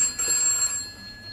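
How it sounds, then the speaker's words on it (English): A telephone rings indoors with a bright, tonal bell, one short burst that fades off with no voices over it. "It's the phone."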